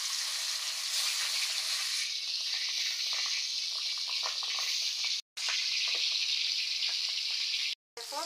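Fish pieces frying in hot oil, a loud, steady hiss and crackle close by that cuts out twice briefly, with no talking.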